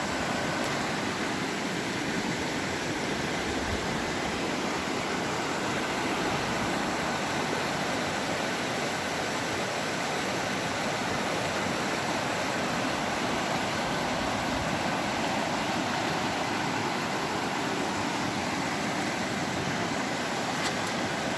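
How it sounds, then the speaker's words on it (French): A river flows nearby in a steady, unbroken rush of water, even in loudness for the whole stretch, with no voices. "Juste le bruit de la rivière, ça m'apaise,"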